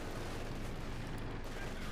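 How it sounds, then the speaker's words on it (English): Mortar and artillery fire rumbles from an enemy position in the World War II strategy game Company of Heroes 2, a steady wash of low booming explosions with no clear gaps, loud and continuous across the whole stretch. "Loses 1 mortar crew here to enemy mortar fire."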